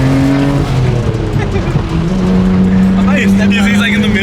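A Nissan R33 Skyline GTR with a new exhaust drives steadily, its engine drone rising and falling through gear changes while people talk inside the car.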